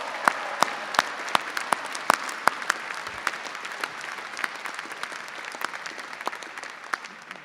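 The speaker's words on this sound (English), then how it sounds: "Let's have a big round of applause for families and friends" Graduation audience at Birmingham City University applauding families and friends: steady, dense clapping from a large hall crowd with sharp individual claps standing out throughout, sustained at even loudness for the full stretch.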